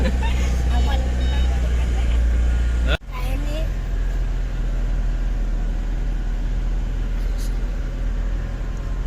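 A vehicle rumbles steadily as it moves, a low continuous drone heard from inside, with a brief jolt partway through and people talking over it.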